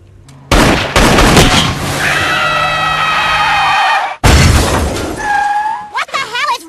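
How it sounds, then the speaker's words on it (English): Cartoon gunfire in a Family Guy scene aimed at car tires: a loud sharp blast with a crash, a long ringing roar, then a second blast followed by squealing, whining tones. "Now shoot her tires out."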